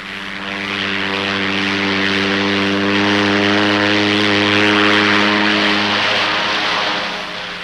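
A propeller charter plane flies over a landing area in 1960s Laos, its engine droning loud and near with a strong steady hum that swells and then fades as it passes.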